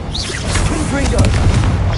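A Confringo blasting spell explodes in the Hogwarts Legacy game, a loud booming burst that rumbles on under a shouted voice and swirling magical effects.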